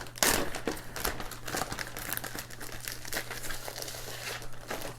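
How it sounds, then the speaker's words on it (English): A Ziploc plastic bag crinkles and rustles steadily for several seconds during a board game unboxing, close and fairly loud, with a low steady hum underneath and no talking. "got a Ziploc bag here"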